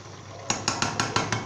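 Metal spoon scraping and clanking against a pot while chicken karahi is stirred and fried, six sharp, evenly spaced strikes ringing out close and loud over a steady low kitchen hum.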